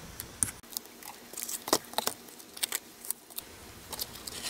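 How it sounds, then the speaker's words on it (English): A Gemini Junior die-cutting machine runs paper through for a Halloween shaker card, giving scattered crisp clicks and crackly ticks with soft mechanical rustling, close and fairly quiet, with no talking. "I'm going to run it through my Gemini Junior"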